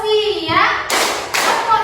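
Children in a classroom join a clapping game, with two sharp bursts of hand claps breaking in after a stretch of voices, close and fairly loud, with speech around them.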